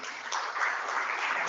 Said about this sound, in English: A round of applause for Nazarius.